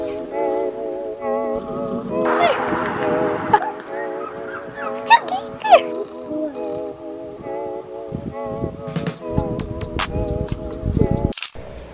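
An 8-week-old toy poodle puppy whimpers and cries in repeated high, wavering whines, interspersed with short yips and some handling noises and camera clicks, recorded up close indoors.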